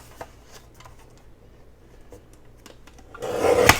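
A paper trimmer slices the glued edge off a book-page pocket: soft rubbing and handling noises, then a short, louder scraping cut near the end, close by with no speech.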